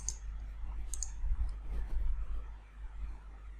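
A few quick, crisp mouse clicks sound as an email is sent, close and fairly faint over a low steady hum.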